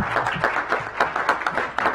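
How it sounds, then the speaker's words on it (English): A crowd at a council session applauding, dense overlapping claps in a steady burst, fairly loud and close. "Let's give them a big round of applause."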